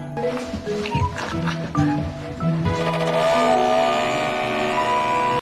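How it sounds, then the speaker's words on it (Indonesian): A car pulls up in front of a house, its engine swelling and revving briefly before settling into a steady hum that ends abruptly, with music playing underneath. "Bersamaan dengan itu mobil Lian sampai di depan rumahnya"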